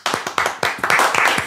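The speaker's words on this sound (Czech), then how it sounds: "Tak jdeme zatleskat." A small group of people clapping for rappers, quick sharp hand claps in a close, lively burst that quickly blends into a dense patter.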